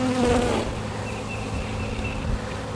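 A steady hum of honey bees flying back toward their hive after a cover is set aside, a louder close buzz at first that settles into a softer continuous drone.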